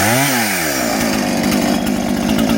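A Husqvarna chainsaw revs up and bites into a big hemlock log in the Adirondacks, loud and close, its engine rising in pitch before settling into a steady, buzzing, throbbing cut.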